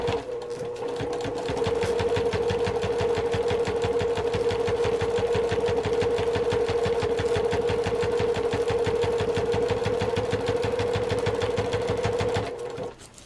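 A sewing machine stitches down a fabric loop on a travel bag, running steadily and loudly for about eleven seconds with a fast, even needle rhythm before stopping.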